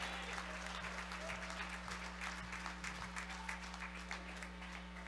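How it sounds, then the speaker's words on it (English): Congregation applauding during a church usher anniversary service, a steady wash of clapping with a low hum underneath and some voices mixed in. "Give God a round of applause."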